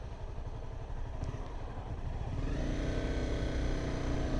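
Honda CBR 250 motorcycle at full throttle on a highway, its engine note rising steadily as it accelerates, with a continuous loud wind-buffeted drone that builds in the second half.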